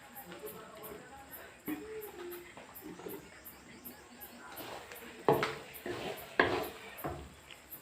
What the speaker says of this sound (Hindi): अब लकड़ी की चम्मच के साथ हम इसको पकाएंगे, ताकि ये जलने नहीं पाए।